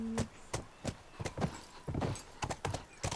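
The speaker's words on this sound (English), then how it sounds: "get off your horse" Horse hooves clip-clopping in The Last of Us video game, a steady run of sharp, fairly loud hoofbeats at an even walking rhythm, with no talking.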